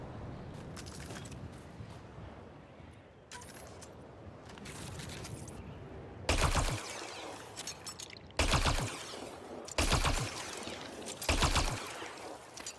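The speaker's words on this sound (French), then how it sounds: "Ça tire des rafales de balles." An alien weapon in Mass Effect Andromeda fires loud, close bursts of bullets, four separate rapid volleys, each about a second long, after quieter stretches of game ambience and shuffling.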